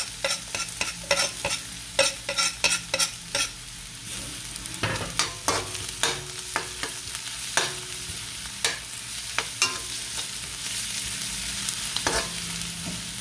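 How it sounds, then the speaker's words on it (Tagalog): Onion and garlic sauté in a very hot, smoking pan, with rapid clattering stirs of a spatula in quick bursts over a continuous close sizzle, and no voices. "Yan, magigisa lang po tayo. Sibuyas. Isabay na natin yung bawang."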